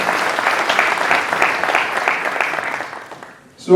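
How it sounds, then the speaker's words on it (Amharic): Warm applause at an awards ceremony in Silver Spring, Maryland, honouring Montgomery County: a dense, steady clapping crowd filling the room, tapering off toward the end with a brief louder sound at the very close. "ለሞንትጎመሪ ካውንቲ ሞቅ ባለ ጭብጨባ ምስጋናችን ነው"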